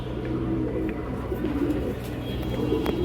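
A pair of necklace-throated (kanthi gola) pigeons, male and female, at a breeder's farm gives low, rolling coos that run steadily throughout, close by over a soft background hum.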